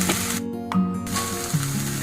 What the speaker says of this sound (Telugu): ఒక టూ మినిట్స్ దాన్ని అట్లా వేగనియండి